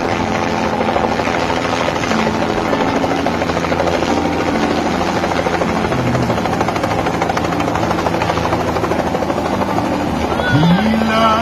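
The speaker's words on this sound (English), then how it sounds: "So the wife arrived in a chopper," A helicopter arriving at a wedding thunders loud and close, steady rotor buzz and engine drone throughout, with a brief rising whine near the end.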